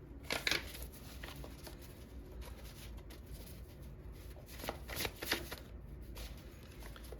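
Tarot cards being shuffled by hand, soft riffling and slapping bursts that come and go over a low room hum, with a couple of sharper flurries standing out; no one speaks.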